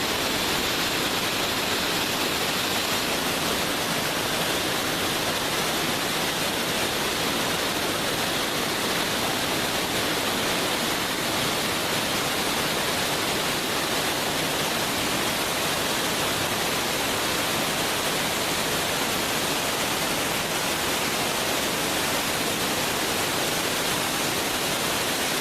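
Marble Falls pours steadily into Mill Creek, a loud, continuous broadband rush of falling water with no talk, unchanging for the whole stretch.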